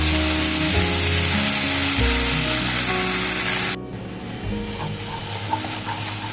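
Fish being stirred in a milk gravy in a pan, with a steady loud sizzle and scraping stirs that turn quieter partway through as the frying hiss drops away.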